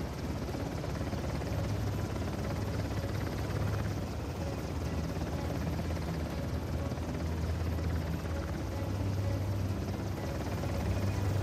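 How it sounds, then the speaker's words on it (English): A helicopter hovers nearby during combat in Uncharted: The Lost Legacy, its rotor throbbing as a continuous, steady roar for the whole stretch without any speech. "Normally the helicopter should be turning around here."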